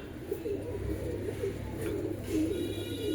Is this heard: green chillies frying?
no